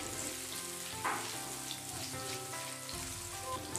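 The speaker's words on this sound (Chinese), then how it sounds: "锅里面加入少许的食用油， 倒入葱姜蒜爆香" Scallion, ginger and garlic stir-fry in a little hot oil in a wok, a soft crackling sizzle with a spatula scrape near the start and some background hum.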